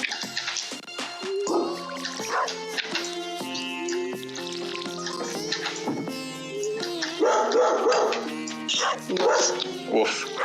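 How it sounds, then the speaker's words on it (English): A dog in the Stardew Valley video game gives a string of short, bright barks and yips over a busy, tonal game soundtrack, heard alongside some talk. "That was not my dog."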